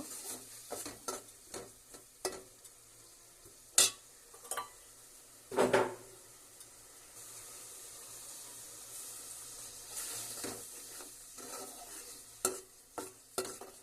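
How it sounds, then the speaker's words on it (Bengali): Cumin and garam masala fry in a pan for a fish pilaf, with a soft sizzle under repeated scraping and clinking strokes of a spoon against the metal pan, some sharp knocks scattered through. "মশলাটা আমি এখন ভালোভাবে কষিয়ে নিব।"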